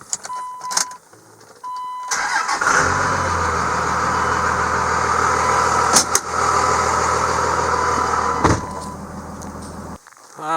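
2001 second-generation Dodge Ram Cummins diesel, a regular-cab one-ton dually, turning over and settling into a steady idle after door clunks and chimes, close and loud with a few sharp knocks, no talk.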